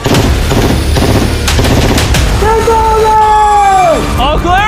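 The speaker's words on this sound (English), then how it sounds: "One bullet to penetrate, and it's going in his Lambo." Heavy gunfire aimed at a Lamborghini: loud, dense bursts of rapid shots crowd the first seconds, followed by sustained whistling tones that bend downward near the end.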